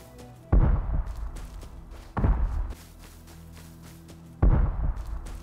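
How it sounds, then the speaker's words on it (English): Explosions in the survival game Rust during a raid, three heavy booming blasts spaced a couple of seconds apart, each with a short rumbling decay over quiet background noise. "Explosions."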